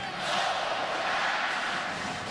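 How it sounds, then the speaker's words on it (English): A packed stadium crowd at a 2012 Alabama versus Mississippi State college football game roars a loud, sustained chant of roll tide in unison after a first down. "the crowd in unison said roll tide"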